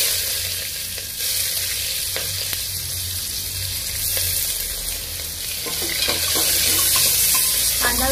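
Onion sautéing in hot oil with cumin and whole spices for a soybean pulao, a steady broad sizzle with intermittent scraping stirs, louder toward the end; no talking.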